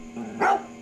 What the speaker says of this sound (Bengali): কুকুরগুলো এখনো ডাকছে